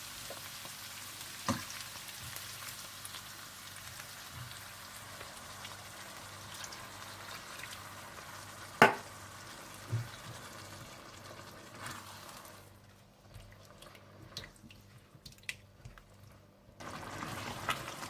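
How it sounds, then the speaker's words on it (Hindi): Chicken stock and water poured into a pot of browned ginger chicken, giving a steady low sizzling and bubbling hiss with a few sharp clinks, quieting briefly before the simmer swells again near the end. "आप इसमें चिकन की यखनी डाल दें और इतना पानी डाल दें"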